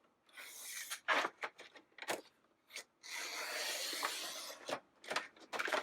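Trimmer slicing through a sheet of craft vinyl, giving raspy scraping strokes in short bursts followed by one longer sustained slide, close and fairly quiet, with no talk.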